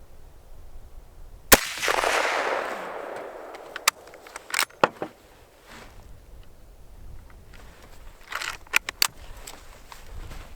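Mosin Nagant rifle fired at a steel target outdoors: one sharp loud shot with a long rolling echo, then several fainter sharp clicks and knocks.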